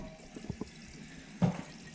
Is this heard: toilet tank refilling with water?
yes